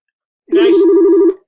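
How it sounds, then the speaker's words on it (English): A telephone rings once, a close, loud electronic tone lasting just under a second with a fast warbling pulse, then stops, alone without talk. "I hate it when the phone rings when you're on the call"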